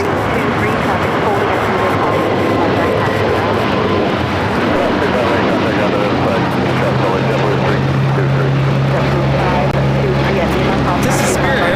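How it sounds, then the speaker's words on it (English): Spirit Airlines Airbus A321neo taking off at LAX, a steady broadband jet roar that holds loud throughout with a rising engine tone partway through, distant talk faintly underneath. "This is Spirit Airlines 358 taking off to Seattle on the 321 Neo."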